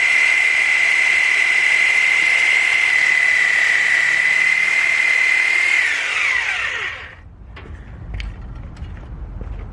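A power tool cutting a metal bracket during a Subaru Forester XT oil cooler install gives a loud, steady high-pitched whine that holds for about six seconds, then winds down and stops, followed by a few light clicks and handling noises.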